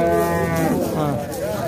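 A cow at a livestock bazaar moos in one long, loud, low bellow that rises and wavers for nearly two seconds, close by and with no talking over it.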